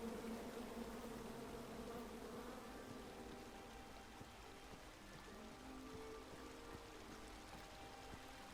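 A swarm of angry bees buzzes in the King's Quest video game after a tree full of them is chopped down: a dense, steady, close drone that holds for several seconds without pause and with no voices.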